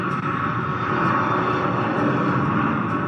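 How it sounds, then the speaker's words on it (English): Steady jet engine roar used as a sound effect in a live radio theater comedy sketch about a three-toed sloth, a continuous even whoosh held for a few seconds without speech. "try our 3-toed sloth that comes equipped with her own jet engine"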